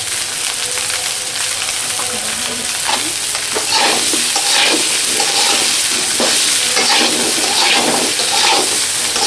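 Vegetables for vegetable fried rice sizzle and fry in a pan while being stirred repeatedly, with steady loud frying hiss and regular scraping strokes throughout.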